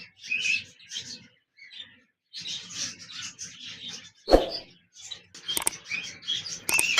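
A red-eyed pair of white Java sparrows at a bird farm gives short, bright chirping bursts separated by pauses, fairly close, with a few sharp clicks and no talk.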